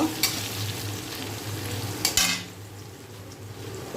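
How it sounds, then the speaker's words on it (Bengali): Onions fry in oil with whole garam masala and bay leaves, a moderate crackling sizzle overlaid with scraping spatula strokes and a couple of sharper metallic stirs before it settles to a quieter fry. "এদিকে গোটা গরম মশলা তেজপাতা দিয়ে পেঁয়াজ ভাজা হয়ে এসছে"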